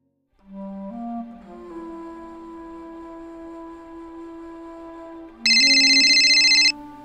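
A telephone rings alone with a melodic electronic ringtone, a steady sequence of tones that jumps to a louder, brighter high-pitched burst near the end, with no one talking.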